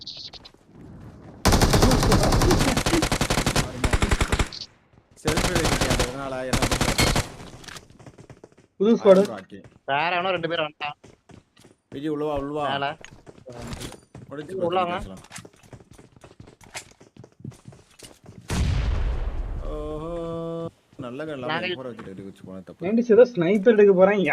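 Shotgun fire from a mobile shooting game comes in loud, sharp bursts and single blasts, scattered among other game sounds with pauses between.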